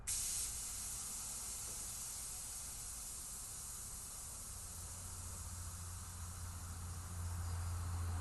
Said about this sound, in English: we're going to release the air from the tire, and the way you do that is depress the valve stem